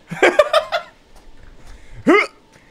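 A female character in the horror game The Devil In Me lets out short, sharp hiccup-like gasps, a quick cluster of bursts followed by a pause and one more, with faint background noise between.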